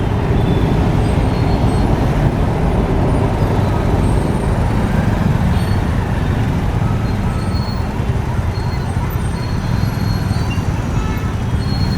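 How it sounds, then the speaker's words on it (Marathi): Jammed road traffic in Pune, with a steady, loud wash of idling and creeping cars, buses and trucks, close by and continuous with no clear breaks. "ट्रॅफिक कशामुळं जाम झालंय"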